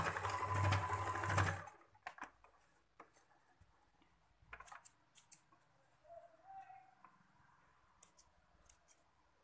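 A sewing machine stitches the folded edge of a cloth baby napkin. A loud burst of whirring runs at the start, then quieter clicks and short mechanical sounds follow in an otherwise still room.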